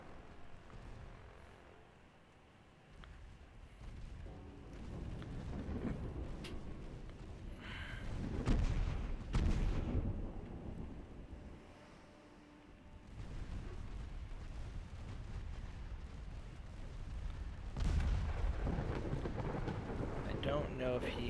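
Naval gunfire in Ultimate Admiral Dreadnoughts booms as deep, rumbling blasts, swelling and fading over about twenty seconds under faint background sound.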